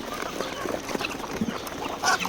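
Hungry chickens crowd a feeding dish after deworming, giving scattered clucks and short calls close by over pecking and shuffling.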